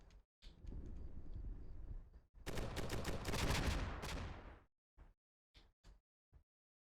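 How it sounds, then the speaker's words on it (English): Gunfire in the Combat Mission: Black Sea video game, a long sustained burst of rapid automatic fire with rolling reports, preceded and followed by single sharp isolated shots that fade into silence. "I'm not even sure what you're shooting at"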